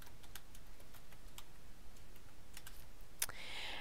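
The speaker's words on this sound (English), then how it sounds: "I'm just going to retype this information" Quiet keystrokes on a computer keyboard while entering data into an Excel spreadsheet, a quick irregular run of soft clicks and taps at close range, with one louder click near the end and no speech.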